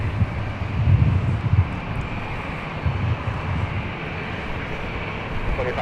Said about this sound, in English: Latam about ready to stretch its wings